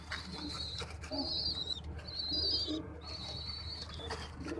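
Pigeons in a home loft coo softly in repeated low phrases, with some higher chirps and a steady background hum, fairly close.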